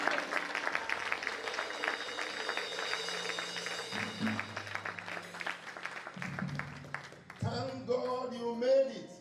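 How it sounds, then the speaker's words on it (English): A church congregation claps for the Lord, a dense crowd patter filling the room at moderate distance, with an interpreter's voice and music tones rising in the final seconds. "Shall we clap for the Lord?"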